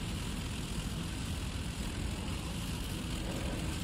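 A WWII fighter plane's piston engine runs steadily after start-up in the flight simulator IL-2 Cliffs of Dover, a loud, even propeller drone filling the whole stretch with no talk.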